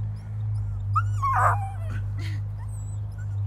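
A dog whimpers and yips close by in a training setting, a few brief high whines over a steady low hum, without clear howling.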